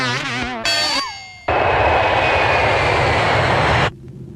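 A passenger airplane's engine roars loud and steady on the ground before takeoff, following a few short musical tones and cutting off abruptly near the end.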